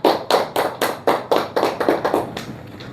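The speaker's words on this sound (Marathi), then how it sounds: "जोरदार टाळ्या होऊ द्या यांना." A small audience claps in a steady rhythm of about ten sharp beats to cheer a winner at a customer prize draw, where mobile earphones are the prize.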